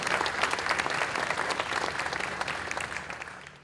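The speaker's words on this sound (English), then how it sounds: "Let's give them another round of applause." An audience claps for the Jefferson College Law Enforcement Academy graduates at their graduation ceremony. The applause is dense and steady and fades at the end. No talking is heard over it.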